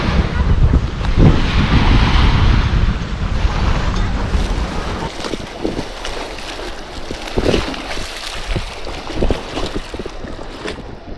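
Surf and wind at Kalami Beach on Corfu, Greece: a steady broadband wash of waves with heavy wind buffeting the microphone, loud and continuous throughout with small surges.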